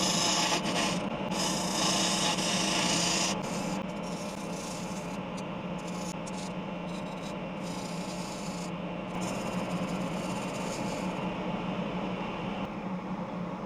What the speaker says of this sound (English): I'll finish shaping the outside of the bowl with a 5/8 bowl gouge and a scraper